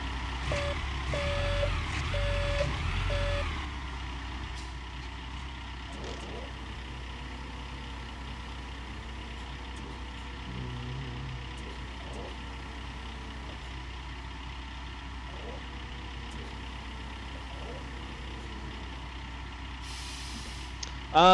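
A dump truck in Gold Rush: The Game rumbles with a steady engine drone, an air-brake hiss at the start and faint intermittent reversing beeps, fairly quiet throughout.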